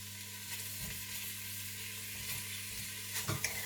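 Italian sausage meat browns in a quick cooker with a continuous sizzle, broken by a few soft stirring scrapes near the start and a louder clatter of stirring toward the end.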